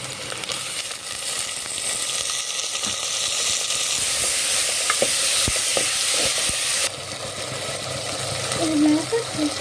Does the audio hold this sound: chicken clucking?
no